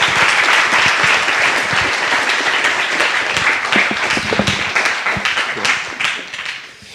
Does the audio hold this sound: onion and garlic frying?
no